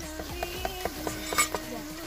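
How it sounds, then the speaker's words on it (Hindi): Chicken hits hot oil for a Kokni handi and sizzles softly while a utensil scrapes and taps the pan in a quick, steady rhythm, close by and fairly quiet. "ये चिकन को तेल के अंदर डालते हुए पकड़ दे"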